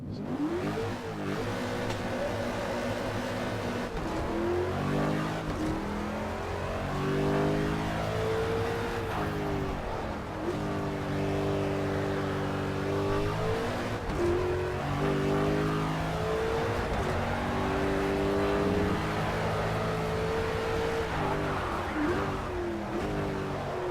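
An Aston Martin sports car engine in Project CARS revs up and down through repeated gear shifts, a steady droning whine climbing and dropping with each change.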